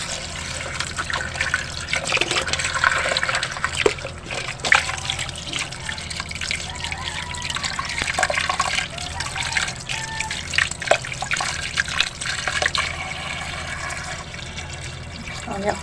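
Food is washed under running water from a tap, a continuous close trickle and splash with irregular clatters of handling, and no talk.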